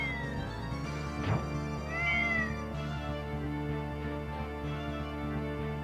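A cat meows in an RPG Maker video game, with a couple of drawn-out meows over steady game music, fairly clear and without speech.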